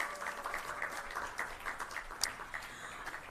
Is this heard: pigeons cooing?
no